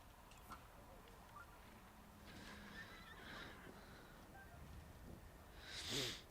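A horse whinnies in a video game, a brief neigh near the end over a low background bed with faint scattered clops and ticks, fairly quiet and distant.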